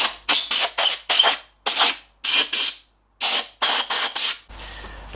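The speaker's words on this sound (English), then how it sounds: "What I like to do is just use an airline just to blow the last bits of the degreaser off." A compressed air line blows degreaser off an MGB cylinder head in about nine short, loud bursts of hissing air, each separated by a brief pause, followed by a quieter hum.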